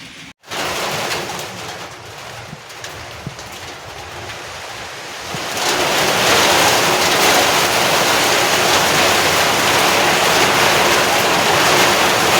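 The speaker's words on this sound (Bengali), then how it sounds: "ঝমঝমিয়ে বৃষ্টি, তার সাথে পোড়ামাটির গন্ধ, এটা অসাধারণ।" Heavy rain pours steadily during a storm on a village morning, a dense continuous hiss that grows noticeably louder and fuller partway through and stays intense to the end, with no voices.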